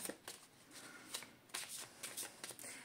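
Tarot de Marseille cards are cut and shuffled by hand in a run of quick, crisp riffling bursts and papery flicks, close up with no talking.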